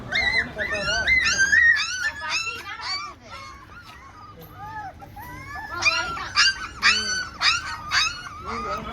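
Several puppies on a farm whimper and yip in high, overlapping squeals, close and insistent, jumping up, with a person talking underneath.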